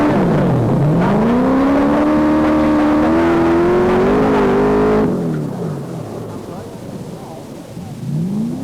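A 300-horsepower Triumph TR7 V8 rally car engine roars loudly at high revs, pitch climbing steadily through a right-hand bend before cutting off abruptly, then a quieter engine drone rises again near the end.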